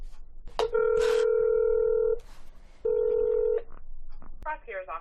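Touch-tone telephone keys beep as a number is dialled to an Ohio county prosecutor's office. Two long, loud steady tones are heard close, followed by quieter clicks and a short ringing or tone burst at the end.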